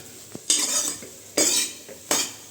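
Soya chunks (meal maker) fry in a little oil in a pan, loud bursts of sizzling and scraping as a metal spatula stirs them three times, close up with no talk.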